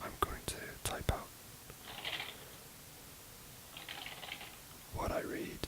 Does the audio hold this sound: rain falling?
no